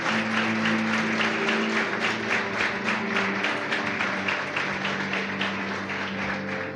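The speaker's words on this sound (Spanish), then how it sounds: "Dale un fuerte aplauso al Señor" A church congregation applauds vigorously in a dense, continuous wave of clapping that holds strong for several seconds over a sustained organ or keyboard chord.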